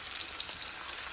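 Mixed vegetables frying for fried rice: a brief, close, steady crackling sizzle of hot oil in the pan with no voices.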